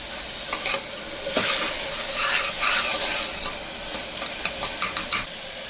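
Onions and tomatoes sautéing in a hot pan for a double bean curry, a steady sizzle and hiss broken by repeated scraping and stirring strokes of a spoon, with no voices.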